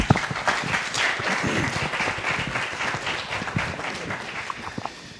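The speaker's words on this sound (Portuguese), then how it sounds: "Nós queremos agradecê-los com uma salva de palmas." A sustained round of applause from an audience at a panel discussion event, dense and steady clapping that holds for several seconds before thinning slightly at the end.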